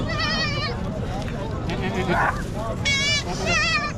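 Goats bleat at the Domail livestock market in Fateh Jang, giving several short quavering cries in bursts near the start and again toward the end, close and loud over steady crowd chatter and people talking.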